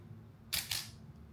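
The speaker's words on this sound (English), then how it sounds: "the shutter sound," An Olympus OM2n 35mm film camera fires its shutter, two quick, soft mechanical clicks about a fifth of a second apart, close up in a quiet room.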